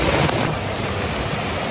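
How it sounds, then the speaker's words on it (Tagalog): Floodwater pours over the brim of a street canal during heavy rain, a steady broadband wash, slightly louder at the start, with no voices. "Grabe yung tubig. Umaapaw na sa kanal."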